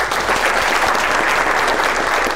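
A room of quiz participants claps together in a dense, steady burst of applause during an Amharic game show, loud and close, with no speech over it.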